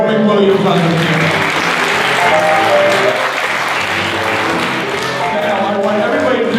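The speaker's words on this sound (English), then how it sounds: "Everybody give a big round of applause for Joe McWilliams on the piano." A symphony concert audience applauding a pianist loudly and continuously, dense clapping that holds steady for several seconds, with some voices mixed in.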